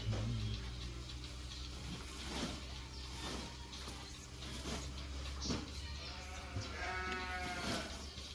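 Dorper sheep at a feeding site bleat faintly in the distance over a steady background hum, with a soft wavering bleat near the end and light ticking sounds throughout.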